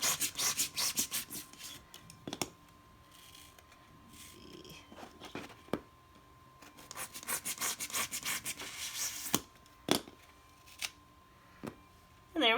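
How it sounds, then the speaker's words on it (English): A box cutter slices a piece off a sandpaper sponge in a close run of rough, rasping strokes. The sawing comes in two long bursts separated by quieter handling, with a few sharp scrapes and a voice speaking softly in between. "I'm going to take this sandpaper sponge thing that I have, and I'm going to cut a piece off to use to sand down the edges. I just use my box cutter."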